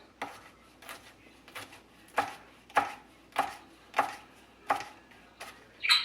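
A knife chops vegetables on a green cutting board with a rocking motion, giving a series of sharp, evenly spaced thuds that start light and grow firmer, close and clear with no talking.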